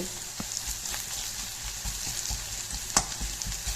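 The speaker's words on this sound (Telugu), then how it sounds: "కలుపుతూ ఉంటే ఇలా ఈవెన్గా వేగుతాయి అన్నీ" Pieces of vegetable, some of them onion, fry in a pan while being stirred. The close sizzle is steady, with scattered soft scrapes and one sharper clack near the end. No one speaks.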